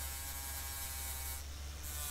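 Grinder smoothing a TIG weld on a stainless steel 304 handle, a constant high whining buzz with a low motor drone, steady and fairly quiet throughout.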